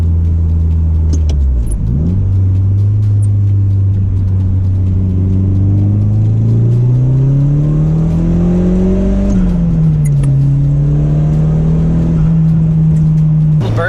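A Nissan 180SX Sileighty engine roars loud and close, dipping briefly before a throttle burst sends the pitch climbing, then settling into a steady, rumbling drone.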